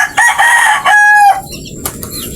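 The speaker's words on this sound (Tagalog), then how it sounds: "Good size naman itong manok na pinakuha sa atin." A rooster nearby gives loud, harsh clucking calls followed by a short crow, two bursts of strained squawking before trailing off into quieter rustling and faint background noise.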